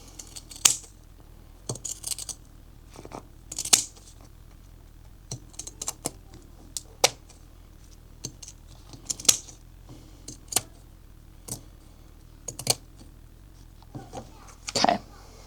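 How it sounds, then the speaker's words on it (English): Pinking shears snip through fabric, trimming the seam allowance around curves while sewing a clutch wallet; a steady run of short, crisp cuts sounds close by and fairly quiet, with brief pauses between them. "my pinking shears here, and I'm just going to, around these curves, just trim the seam allowance just slightly"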